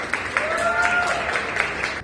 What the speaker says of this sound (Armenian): ծափարեցումներ